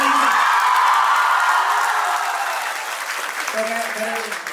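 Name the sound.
audience applause at celebration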